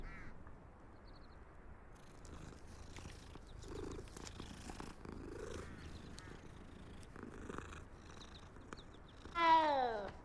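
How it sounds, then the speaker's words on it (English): A cat in the Hogwarts Legacy video game purrs softly and steadily, then gives a loud, drawn-out meow at the end, with faint ambient game sounds behind. "Oh, cat."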